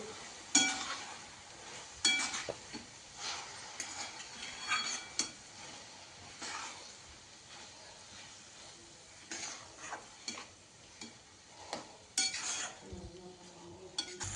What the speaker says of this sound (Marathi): कोथंबीर मिक्स करून घेऊ